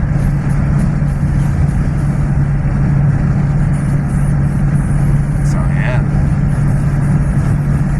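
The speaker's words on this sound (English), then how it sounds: "my boy wanted to see what the car sounds like" A 392 engine idles steadily with a low, even rumble inside the car, windows up, while someone talks over it.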